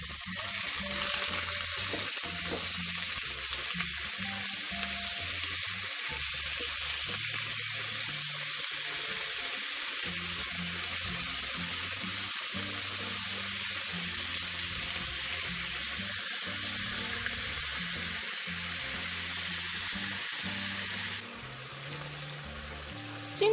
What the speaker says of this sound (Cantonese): 先煎一煎嗰啲排骨